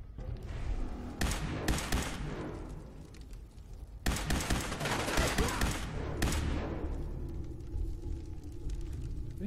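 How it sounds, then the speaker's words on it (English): Repeated bursts from an automated turret in Fallout 4 at Kendall Hospital, loud rattling volleys with echoing tails, several separate bursts over a low rumbling background and no clear talk. "Oh, it's a turret."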